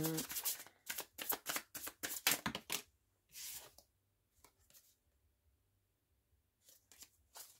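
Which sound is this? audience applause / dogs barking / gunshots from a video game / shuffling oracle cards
shuffling oracle cards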